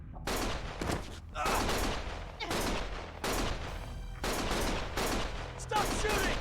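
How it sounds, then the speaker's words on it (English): Dense bursts of gunfire from the video game Lost Judgment come in several loud, sustained volleys with short gaps between them, with voices mixed into the clamor. "Stop shooting!"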